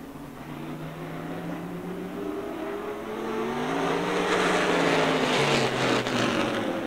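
Several race car engines drone and rev together in the distance on an oval at Rockford Speedway, pitch rising and falling as they circle, steadily growing louder.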